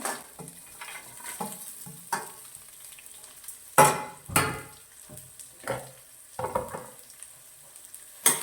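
Coriander seeds fry in hot oil with a light sizzle, punctuated by repeated sharp stirring clinks and scrapes of a utensil against the pan, close and uneven in rhythm.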